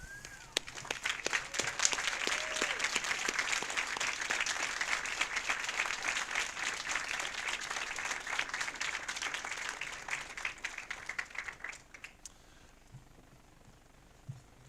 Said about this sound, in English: give your family a round of applause?